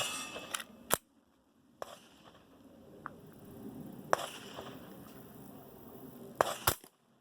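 Suppressed Ruger 10/22 Charger pistol firing CCI Blazer 40 grain ammunition: a few sharp, short cracks spaced seconds apart, with a quieter click between them and low background rumble.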